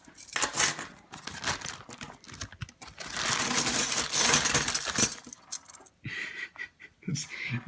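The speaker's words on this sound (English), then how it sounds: "We have more keys." A pile of metal keys gets handled and dropped during a lock-collection unboxing, with clinking and jangling in close irregular bursts and bits of breathy speech between them.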